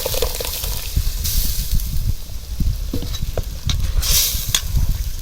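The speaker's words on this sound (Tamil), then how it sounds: "இப்போ நம்ம அரைச்சிட்டு வந்து மசாலா ஊற்றிக்கலாம்." Ground masala poured into frying Chettinad mutton and stirred, a loud, close sizzle with continuous scraping stirring and a wet gushing burst toward the end.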